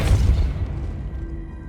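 A Depulso spell cast in the Hogwarts Legacy video game, heard as a single loud, deep booming burst that fades into a low rumbling tail with a faint sustained tone.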